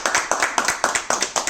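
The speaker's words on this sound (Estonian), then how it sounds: "Aplaus!" Applause in a sculpture modelling studio: a small group claps in an uneven rhythm of sharp, close hand claps, fairly loud and steady throughout.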